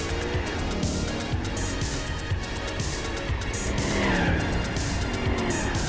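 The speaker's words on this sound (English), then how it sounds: "I'm in 6th gear doing a burnout with one tire, doing 100 miles an hour." A Buick in Gran Turismo 4 holds a one-tire burnout in sixth gear at about 100 mph, giving a steady, loud engine roar with continuous tire squeal and skidding, no talking over it.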